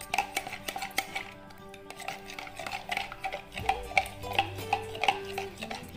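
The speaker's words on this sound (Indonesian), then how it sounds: "Lalu santannya kita aduk, santan dan air ya." A spoon stirs coconut milk and water in a bowl, giving a steady rhythm of light clinks and scrapes against the sides, close and clear with no talk.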